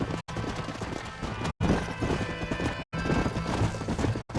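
Horse hooves clip-clop at a fast gallop with occasional whinnies in the video game Red Dead Redemption, loud and continuous, broken by a few brief silent gaps.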